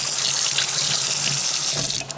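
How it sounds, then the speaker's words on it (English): Water gushes fast from a sink faucet missing its aerator, a loud continuous hiss and splash that holds steady and then cuts off at the end. "And the water's coming out pretty fast."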